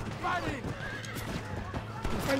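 A horse neighs sharply over hoofbeats clip-clopping in the video game Red Dead Redemption, with voices talking over the game audio.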